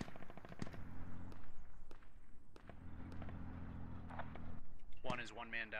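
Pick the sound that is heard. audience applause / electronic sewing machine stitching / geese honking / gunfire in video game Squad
gunfire in video game Squad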